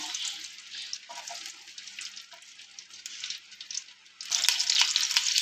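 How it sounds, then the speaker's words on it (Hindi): Onions sizzling in hot oil for matar pulao, a steady broad frying hiss that swells louder and brighter near the end as they hit the pan; no talk. "ऑयल गर्म हो चुका है, इसमें डालेंगे प्याज।"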